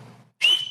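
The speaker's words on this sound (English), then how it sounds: "the art of whistling loud" A loud, shrill whistle, most likely a person whistling, cuts in sharply after low murmuring and a short silence, holding one piercing pitch that bends slightly upward.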